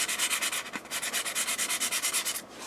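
Hand sanding of wood grain filler with sandpaper, a steady run of rapid back-and-forth scratchy strokes, close and even, with one brief pause partway through and no talking.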